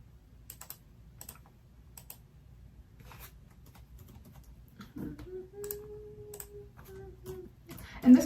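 Computer keyboard typing in a gaming livestream setup, scattered quick clicking keystrokes at a moderate distance, fairly soft, with a hum and a brief tone partway through and no talking.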